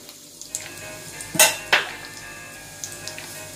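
Ground coriander, fennel and black pepper fry over low flame in a pan, a soft steady sizzle punctuated by a couple of sharp utensil clinks and scrapes, close and fairly quiet with no talk.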